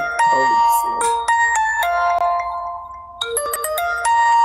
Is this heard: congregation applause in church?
no